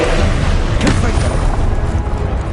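A Confringo blasting spell in Hogwarts Legacy bursts into a loud, rumbling explosion with a sharp crack partway through, and a voice is heard over it.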